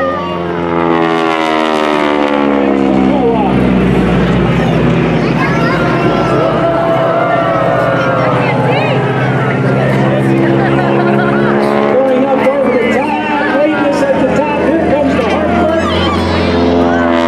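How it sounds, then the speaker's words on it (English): A single aerobatic plane at the Leesburg Airshow in 2024 drones continuously, its engine pitch sweeping up and down as it dives and pulls into a loop, loud and sustained with a commentator talking over it. "he's gonna lower the nose, build up a little bit of extra speed, and then he's gonna pull back and do the loop"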